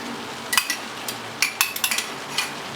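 A metal lid clinks onto a pan of burgers cooking in barbecue sauce, producing a few sharp close metallic clanks and rattles spaced over a couple of seconds above a faint background hiss, with no talking.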